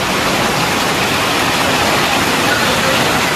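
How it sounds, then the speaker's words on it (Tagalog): Heavy rain pours down hard and steadily, a loud, dense wash of noise from start to finish with no pauses and no voices. "pauwi na sana kami kaso ayan, sobrang lakas ng ulan"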